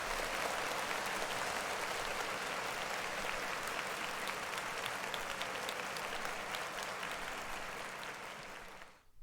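A crowd claps steadily in dense, sustained applause at a hip-hop lineup reaction, loud and even throughout before cutting off abruptly at the end.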